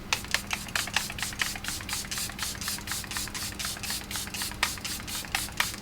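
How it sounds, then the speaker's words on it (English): Charlotte Tilbury Airbrush Flawless Setting Spray misted in a rapid run of close, crisp pump bursts, steady and repetitive, with no talking. "This is my Airbrush Charlotte Tilbury Airbrush Flawless Setting Spray."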